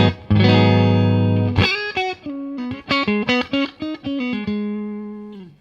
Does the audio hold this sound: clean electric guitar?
yes